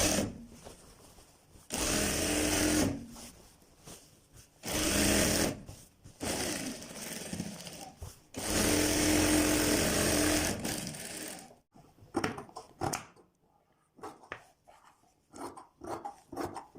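Sewing machine stitching a child's kurta seam, running in several loud, steady bursts with short pauses between, then lighter clicks and handling sounds near the end.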